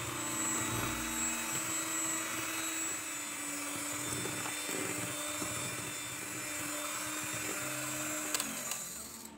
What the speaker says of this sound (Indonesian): Lalu mixer dengan kecepatan tinggi sampai putih berjejak ya.